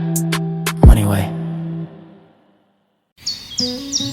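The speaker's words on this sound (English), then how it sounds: "The sun's shining, birds are singing" Birds sing in short bright chirps and whistles, a few calls at the start, then a pause of near silence before more trilling phrases return, with a sharp thump partway through.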